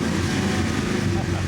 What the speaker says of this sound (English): You just can't beat the sound of a healthy cammed American V8